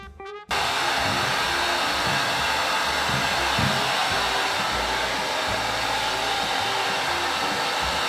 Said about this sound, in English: I'm gonna have to just chill here with a hairdryer for the next hour and just hope to God they dry